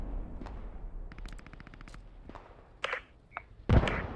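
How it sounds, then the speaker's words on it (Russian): Gunfire in the video game Post Scriptum: a rapid automatic burst, then scattered single shots, with one louder, closer report near the end. No one talks. "Слышу стрельбу у нас на фобе."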